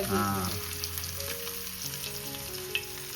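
Mandeli fish, dropped one by one into hot oil for a crisp Konkan-style fry, crackle with a moderate steady sizzle after a short tonal sound at the start, with one small sharp pop later.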